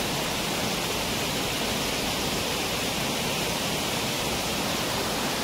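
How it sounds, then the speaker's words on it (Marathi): A waterfall near paddy fields and forest in Guhagar on the Konkan coast roars in a dense, unbroken rush just after rain, loud and steady throughout. "पहा गुहागर मधला हा धबधबा अचानक आमच्या दृष्टीस पडला"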